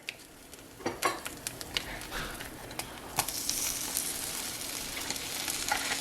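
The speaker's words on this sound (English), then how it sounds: "Then I'm going to put the butter in there." Butter melts in a hot pan while cooking a feta-crusted chicken dinner, giving a steady soft sizzle and frying crackle with scattered light taps and clicks of utensils. No voices are heard.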